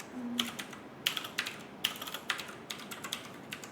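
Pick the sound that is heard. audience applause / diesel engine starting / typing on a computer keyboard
typing on a computer keyboard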